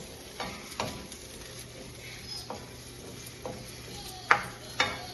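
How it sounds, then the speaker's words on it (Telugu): Peanuts and sesame seeds frying in a pan for a chicken curry, with a soft continuous sizzle and a few sharp scrapes and taps of a spoon against the pan, quiet and close, no voices. "వేసి ఈ విధంగా కొద్దిగా వేగాలి"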